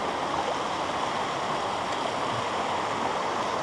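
A strong stream current rushes and hisses steadily at close range, a dense unbroken wash of moving water with no voices.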